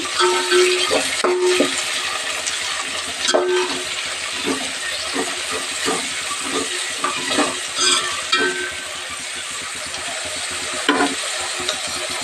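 Coriander and tomatoes being stirred into a hot frying pan for upma with putnala chutney, a steady sizzle broken by repeated scraping and clinking strokes of a spoon against the pan.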